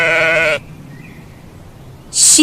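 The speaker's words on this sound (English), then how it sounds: "Sheep," A sheep lets out one short, loud bleat up close, followed by quiet and a brief hiss at the end.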